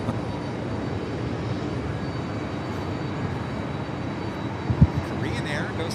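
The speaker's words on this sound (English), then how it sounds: "Korean Air Flight 82 heading back to Tokyo Narita" A Korean Air A380 jet takes off at JFK with a steady, moderately loud engine roar throughout. A short thump sounds near the end, and a voice talks faintly under the roar.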